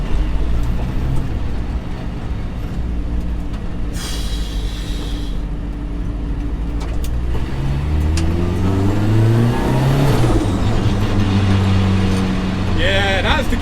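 Mazda MX5 MK1 with a forged 1.6 engine, twin-disc clutch and very light flywheel, driving with a gearbox whine rising and falling over engine drone and road noise, a person talking partway through.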